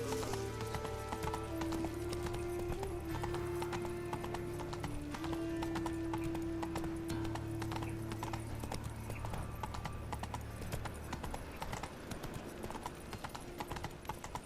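Hoofbeats of Geralt's horse Roach in The Witcher 3, a steady galloping clip-clop sustained throughout over a constant game soundtrack, with a brief whinny-like tone.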